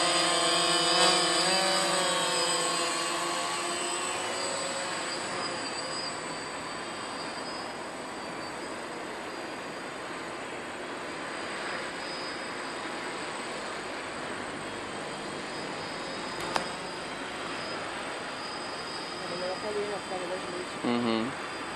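A DJI Phantom drone flying at night gives off a continuous whining buzz. Its pitch bends and shifts at the start, then settles into a steady drone that stays fairly loud throughout.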